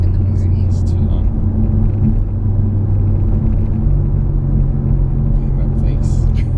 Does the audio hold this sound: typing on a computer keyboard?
no